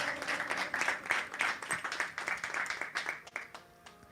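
A church congregation claps loudly and steadily for several seconds, with brief spikes of individual claps standing out from the crowd before the applause fades.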